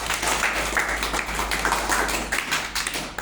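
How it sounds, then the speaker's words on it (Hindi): A group of children clapping after a storytelling session, a loud, close, uneven patter of many hands that runs throughout with no talking over it. "बहुत अच्छे, ताली बजाओ।"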